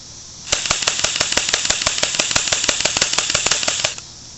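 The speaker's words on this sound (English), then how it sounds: "shoot it on automatic right now, and I'm gonna shoot it at the fence" An M74DP spring-powered airsoft gun firing on automatic at a fence, a rapid even burst of about twenty-five sharp, loud clacking shots lasting roughly three and a half seconds.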